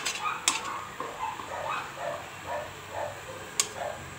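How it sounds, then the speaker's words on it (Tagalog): Dogs barking in the distance, a few faint, scattered barks and yips over a steady background hiss while food cooks. "tahula na naman ng mga aso"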